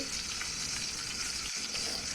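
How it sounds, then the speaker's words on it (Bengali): Banana fritters fry in hot oil in a wok, a loud, even, crackling sizzle that runs unbroken and close up. "বড়া ভাজছে, কড়াইয়ের মধ্যে দিচ্ছে"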